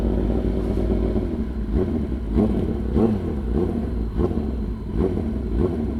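Kawasaki ZX10R motorcycle launching hard with launch control, a loud droning engine roar with periodic revving surges and clatter, heard continuously without speech.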